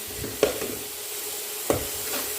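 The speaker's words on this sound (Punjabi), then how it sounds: "ਚਲੋ ਜੀ ਭੁੰਨ ਲਈਏ ਇਹਨੇ ਮਸਾਲਾ ਭੁੱਜਦਾ" Masala spices roasting in a pan give a low steady sizzle, broken by two distinct scraping strokes of a stirring spoon, close by.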